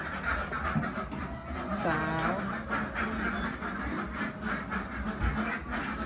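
Khaki Campbell laying ducks quacking on a duck farm, a steady chorus of repeated quacks close by with someone speaking briefly over the flock.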